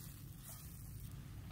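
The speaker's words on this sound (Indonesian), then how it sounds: "Ini sudah mendidih" Coconut milk simmering in a pot with carrots, for a potato and tofu filling, gives a soft, steady low bubbling hiss that holds evenly throughout at a quiet level, with no voices.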